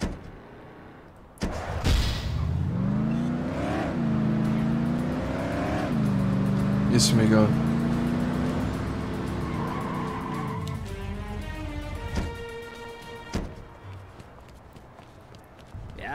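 A car driven in The Godfather video game revs and shifts through rising engine tones with tire noise, heard up close; a voice speaks briefly over it.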